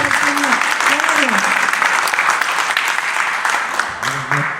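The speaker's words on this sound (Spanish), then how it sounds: "Fuerte el aplauso para el Señor." Loud, sustained applause from a congregation fills an evening church service, a dense wash of clapping that continues throughout with cheering voices mixed in.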